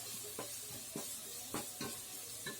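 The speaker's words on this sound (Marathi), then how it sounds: "ते वाटलेलं वाटण हिरवं मी त्याच्यामध्ये फ्राय करून घेते" A ground green masala paste fries over high flame in a hot pan for chicken fried rice, a faint continuous sizzle broken by a few soft stirring scrapes at regular intervals.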